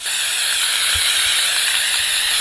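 A close, steady spray hiss as Never Wet base coat is sprayed through a cardboard piece onto a T-shirt, a continuous bright aerosol rush lasting the whole moment with no talk.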